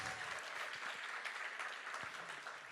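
Award-show audience at a student animation awards event applauding and cheering, dense continuous clapping heard from within the crowd, moderately loud throughout.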